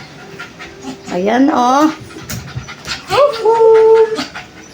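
Pet dogs Yuki and Angela whimper and whine in high, wavering bursts, with someone speaking briefly nearby.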